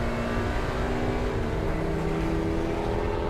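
Race car engine at Brands Hatch during a trackday race, a loud continuous droning roar heard close from on board, steady in pitch with no break.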